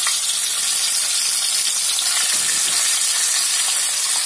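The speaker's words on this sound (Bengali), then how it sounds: "তেলটা আমার মোটামুটি গরম হয়ে গেছে, এবার আমি এটা মাছের মাথাগুলো ছেড়ে দিচ্ছি।" Fish heads fry in hot oil for a moong dal dish, giving a loud, continuous, close-up sizzle and hiss that never lets up.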